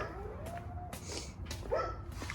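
A dog barks and yips in short bursts near a vehicle's bumper during repair work, mixed with steady low background noise.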